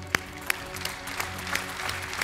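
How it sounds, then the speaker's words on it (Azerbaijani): Studio audience applauding after a singing battle duet on a televised talent show, a short burst of clapping with a few sharp individual claps standing out over a steady patter. "sizi ayaq üstə alqışlayacaq"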